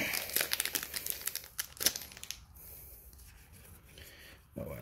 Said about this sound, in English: Come on, peel off foil